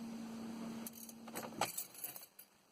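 Car keys jangling in the ignition of a BMW E46 318i with an M43 engine, a few quiet metallic clinks and rattles over a faint steady hum in a calm setting.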